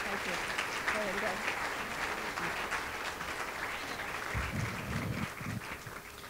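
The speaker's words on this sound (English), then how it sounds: "Another round of applause as they leave the stage." Steady applause from a crowd at an art museum reopening gala fills the room throughout, with a voice speaking over it midway before the clapping thins slightly.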